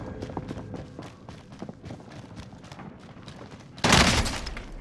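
Rapid gunfire in a shooter video game rattles in quick bursts with scattered footstep-like thuds, then a loud, bright burst of fire or blast erupts near the end and decays.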